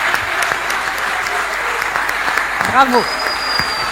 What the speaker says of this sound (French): je voudrais d'abord que ceux qui sont dans la salle applaudissent frénétiquement pour les jeunes talents qui sont derrière